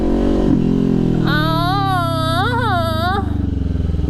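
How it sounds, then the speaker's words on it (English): A Kawasaki Ninja 400 motorcycle engine idles and rumbles while a high, wavering squeal from its brakes rises and bends for about two seconds, then stops. "That's some weird sounding brakes."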